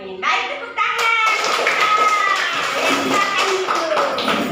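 Children in a classroom clap their hands together after a prayer in a religious education lesson. Loud, quick clapping and taps blend with excited young voices talking over it.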